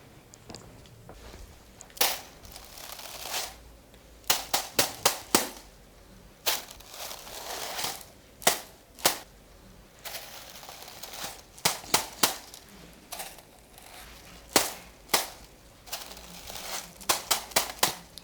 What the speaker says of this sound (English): Using my bamboo sticks of the earth element.